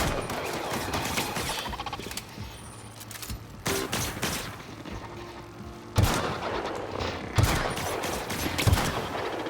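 Gunfire from robots fighting each other in the Outer Worlds video game, repeated bursts and sharp shots over a continuous rumbling background, with no talking.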